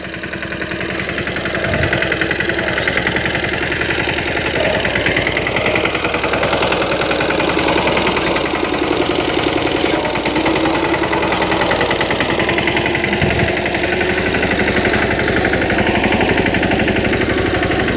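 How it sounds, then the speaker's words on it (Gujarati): A tractor engine runs in a mustard field, a loud, close, continuous rumbling drone that holds steady for the whole stretch. "ટ્રેક્ટર જઈ રહ્યું છું"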